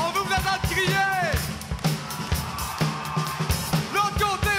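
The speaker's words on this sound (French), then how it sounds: "On veut vous entendre crier." A crowd packed into a school gymnasium at a concert event yells and cheers in surging waves, with loud whoops and shouts layered over a booming, echoing background.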